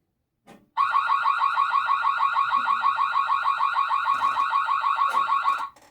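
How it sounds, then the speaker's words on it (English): A Magic Cam 4G trail camera sounds its built-in alarm, a loud, close electronic siren that warbles rapidly and steadily for about five seconds before cutting off. "That's the alarm sound it has."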